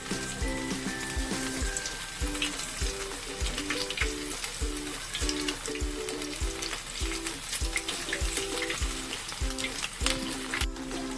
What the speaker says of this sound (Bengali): তার মধ্যে সয়াবিনগুলোকে ভেজে নেব।